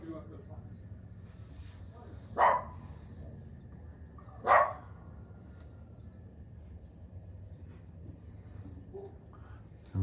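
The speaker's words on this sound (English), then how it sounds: "There's Mojo barking." A dog named Mojo gives two sharp barks a couple of seconds apart, somewhat distant, over a low steady background hum.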